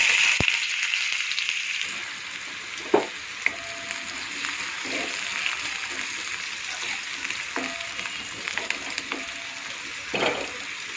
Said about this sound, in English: Now the oil is heated. Now I am going to add the onion first.